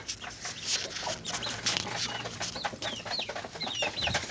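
Chickens cluck and squawk excitedly while fighting over food, a dense, busy stream of close, overlapping calls and scuffles with no pause.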